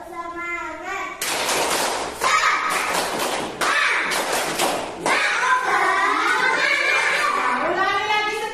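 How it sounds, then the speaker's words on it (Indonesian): A classroom of students standing and performing a rhythmic spirit clap led by the class leader, with bursts of clapping in patterned groups alternating with children's chanting voices, loud and close. "Ketua kelas pimpin tepuk semangatnya ya."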